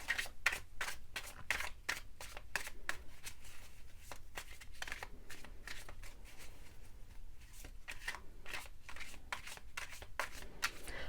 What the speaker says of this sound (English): So let's shuffle them immediately and take them out.